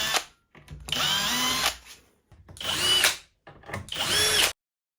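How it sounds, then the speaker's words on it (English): A power drill with a self-centering bit bores fixing holes for cabinet hinges, whirring in three close, loud bursts separated by short pauses. "the fixing positions can be drilled out easily with a self-centering bit."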